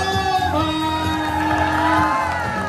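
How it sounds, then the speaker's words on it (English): A live audience on the Carnival Sunrise cruise ship whoops, shouts and cheers for the cast of the stage show Soulbound, a loud sustained roar with no gaps. "please put your hands together one more time as loud as you can for the cast of"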